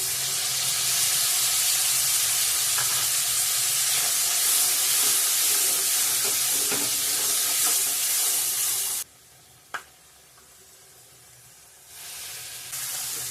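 Tomato paste, green chili and onion sizzle loudly in a hot pan, a dense steady frying hiss that suddenly drops away near the end, leaving quieter scraping.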